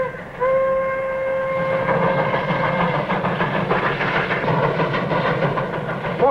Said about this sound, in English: Smokestack's rolling that train. No wonder they're making such good time.